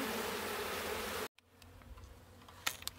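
Honeybees buzzing steadily in a dense, continuous hum while being removed from a roach-infested spot, cut off abruptly partway through and followed by quieter scattered buzzing and a few faint clicks.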